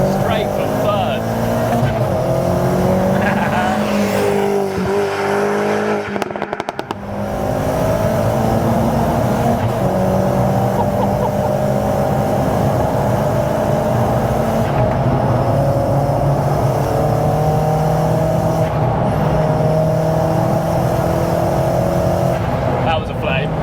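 A modified 285 bhp SEAT Cupra R Mk1 accelerates hard with no traction control, its engine note climbing and shifting loudly from inside the car, a sharp dropout near seven seconds, and people talking over the continuous roar.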